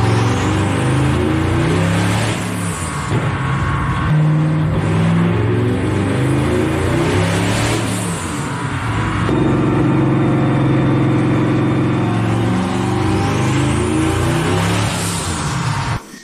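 A Lamborghini Huracan fitted with an LS engine revs hard on a dyno under rising boost. The engine roars loud and close through repeated climbing pulls, easing briefly between them.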